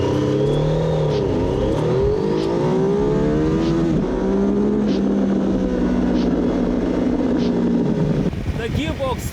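A 2018 Triumph Tiger 800 XCA motorcycle engine revs up in first gear, its pitch rising and sweeping steadily for several seconds before easing off, with a person talking over it and wind rushing past.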